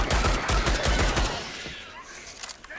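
Loud rapid machine gun fire in the shooter Starship Troopers: Extermination, a steady rattling burst lasting over a second before trailing off into softer game noise.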